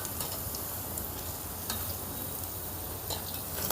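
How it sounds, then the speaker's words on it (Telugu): Alasanda vada, black-eyed pea fritters, frying in oil with a steady, close sizzle and occasional light stirring clicks throughout. "ఈ వడల్ని మంచి బంగారు వర్ణం వచ్చేంత వరకు ఫ్రై చేసుకుందాం"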